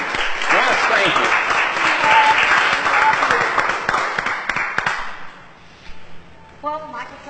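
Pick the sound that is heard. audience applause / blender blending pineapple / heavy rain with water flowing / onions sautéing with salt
audience applause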